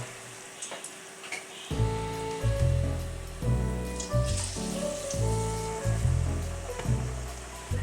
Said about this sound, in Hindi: वेजिस हमारे अच्छे से फ्राई हो रहे हैं।